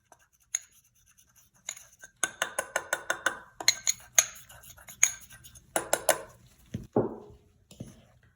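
Butter, sugar and starch are mixed in a bowl for snowball cookies, with a quick run of light clinking spoon-against-bowl taps, then scattered scrapes and a soft rustle near the end; close and fairly quiet, no talk.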